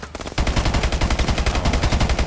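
Rapid automatic gunfire in the video game Call of Duty Advanced Warfare, a loud, close, continuous burst of evenly spaced shots.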